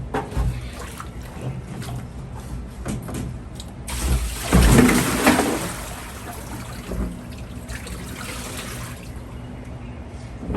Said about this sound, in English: now let's take out the water